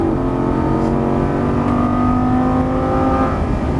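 A Lamborghini Gallardo LP550-2 engine pulls hard after an upshift on a race track, a loud sustained rising drone with steady harmonic tone, heard from inside the car with no talking.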